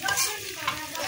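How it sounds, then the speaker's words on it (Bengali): Fish roe fries in a pan for a village-style fish curry, a close, continuous sizzle with a brief stirring scrape, no voices. "এখন আমি মাছের ডিমটা ভাজবো"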